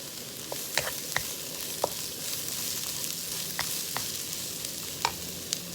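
Aromatics sautéing in a pan for fish escabeche, a constant bright sizzle broken by irregular scraping clicks of a spatula stirring, close and fairly loud.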